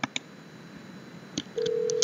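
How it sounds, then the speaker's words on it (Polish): Telephone keypad tones from a phone being dialed in the video game Hello Neighbor alpha: a few short, close beeps in a quiet room, then a steady ringing tone that holds to the end. "W ogóle możemy do Nibora zadzwonić i on ten telefon na dziwo odbierze."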